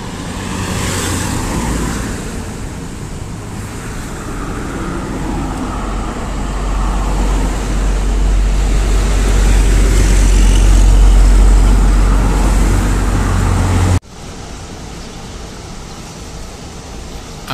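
A Bima Satya bus maneuvers into a parking spot at a roadside restaurant, its engine swelling to a loud, heavy rumble with traffic noise around it, then cutting off abruptly near the end.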